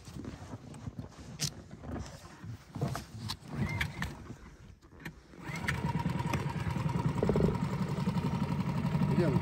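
An outboard motor on a small fishing boat on a river starts up partway through, settling into a steady close droning run after a stretch of quieter knocks and movement.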